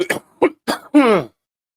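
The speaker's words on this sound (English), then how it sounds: "apologize about for the coughing and sniffling" A few short, harsh coughs in quick succession, ending with a longer raspy throat-clearing hack, close and loud.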